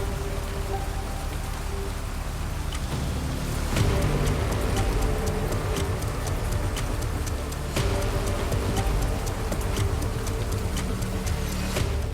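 Steady rain pours in the Himalayas near the Gandaki riverbank, a dense, even hiss of drops spattering on surfaces, loud and continuous throughout with no voices.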